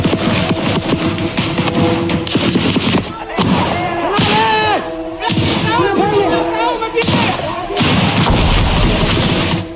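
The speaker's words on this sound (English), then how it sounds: "they face heavy gunfire from soldiers deep within the compound" Heavy gunfire rings out during an assault on a military base compound, loud sustained bursts of shots and thuds echoing almost continuously, with voices shouting over the fire.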